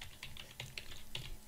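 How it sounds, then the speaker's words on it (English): Password being typed on a computer keyboard: a quick, uneven run of close, crisp keystrokes for a second and a half, with no voices. "I can't talk while I'm typing in a password"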